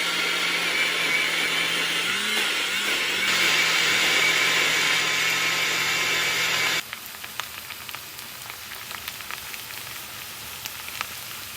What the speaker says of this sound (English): So I'm going to go ahead and blend all that up together and make my sauce.